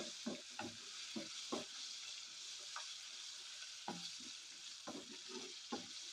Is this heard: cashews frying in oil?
yes